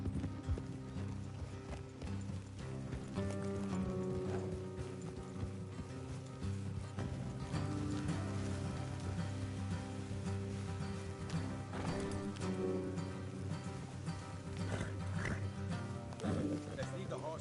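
Horse hooves clip-clop steadily at a run in the video game Red Dead Redemption 2, layered with music and a voice talking over them, with a brief whinny in the mix.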